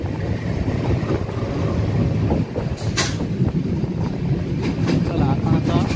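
The Mumbai-Madgaon Janshatabdi Express runs along the Konkan Railway, a loud, steady rumble and rattle heard from on board, with wind buffeting the microphone throughout.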